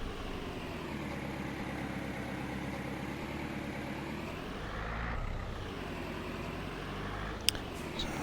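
A tractor engine in Farming Simulator 22 drones steadily and loudly throughout, a continuous low hum with a brief click near the end, no talking over it.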